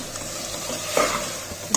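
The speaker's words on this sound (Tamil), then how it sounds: "இப்போ நல்ல வெங்காயத்தோடு சேர்த்து சிக்கனையும் வதக்கி விட்டுறலாம்." Chicken sautéing with onions in a pan gives a quiet, steady frying sizzle with a soft stirring scrape in the middle and another brief clatter near the end.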